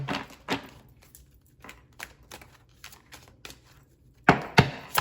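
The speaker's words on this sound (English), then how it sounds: "One more shuffle." Tarot cards are shuffled by hand, giving irregular crisp riffling bursts and soft taps, close and sparse, with louder clusters near the end.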